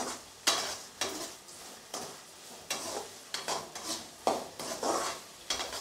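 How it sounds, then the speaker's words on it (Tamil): Onions sautéing in a pan for a stingray fish curry, a soft sizzle under repeated rhythmic scraping and clinking strokes of a metal spoon against the pan, about two per second, no voices. "பொன்னிறமாக வதக்குவோம்."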